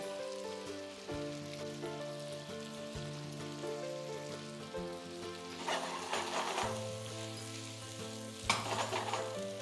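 Peppers frying in a pan for a Turkish chicken kavurma, right after sliced mushrooms go in, giving a steady, close sizzle that swells in louder crackling bursts near the middle and end, with no talking.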